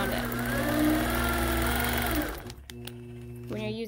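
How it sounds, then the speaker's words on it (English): Sewing machine stitching around a feathered wreath quilt, a steady close motor whir that stops abruptly and leaves clicks and handling sounds, then a brief voice. "I'm going to stitch around it."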